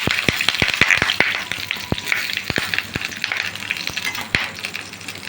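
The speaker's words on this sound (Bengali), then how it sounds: "আর কড়ার মধ্যে তেলটা দেখতেই পাচ্ছ সেরকম খাচ্ছে। খুন্তি নিয়ে নিলাম, আমার হাতে লাগতে পারে। কলা পাতাটা পোড়ার জন্য আমি দিচ্ছি" Banana leaf laid into hot oil in a wok, a continuous bright sizzle with a run of sharp pops and spatters, some in quick succession and others spaced apart.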